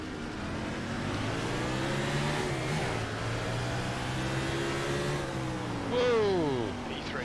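A race car launches from a standing start in third gear on a dirt track, the engine climbing in a rising whine and building revs, with a second engine sweeping upward near the end.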